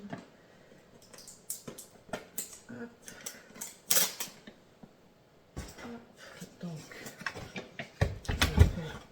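A white plastic box for an I-Companion I touch ProClip is unsealed and opened by hand, giving irregular close clicks, snaps and crinkly plastic handling with a few sharper cracks, louder toward the end.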